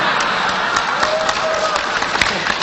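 Dense audience applause at a religious lecture in Indonesia, steady and loud throughout with a crowd murmur mixed in.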